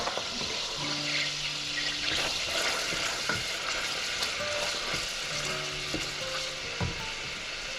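Onions sweating in a pan for a baked-bean risotto give a steady, soft sizzle, with faint clinks and a few brief tonal hums over it and no voices.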